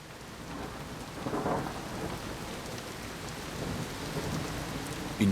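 Heavy rain pours steadily while thunder rumbles low through it, a constant dense wash of sound with no voices.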